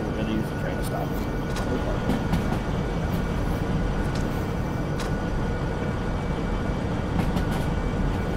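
A long, heavy freight train carrying steel rails in the Derail Valley simulator slows under braking, with a steady low rumble and occasional metallic squeals while someone talks over it.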